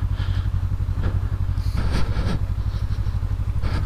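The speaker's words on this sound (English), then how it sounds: "Bike sliding everywhere." A 2019 Honda CB500X motorcycle engine chugs low and steady on a dirt trail in Oregon. Scattered clattering bursts come from the bike slipping on loose ground, heard close and with no voices.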